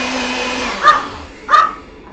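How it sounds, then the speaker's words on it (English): A NutriBullet blender whirs with a bright, steady whine while blending bulletproof coffee, then cuts off, followed by two short, close dog barks. "So real quick, we're gonna have my NutriBullet go, but it will be fast, I promise."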